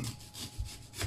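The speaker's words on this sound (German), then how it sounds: "Und ich habe hier Zwiebeln, 2 Stück. Die schneide ich auch in ganz dicke Scheiben." A knife cuts onions into thick slices with quick, even rasping strokes close by, about three per second.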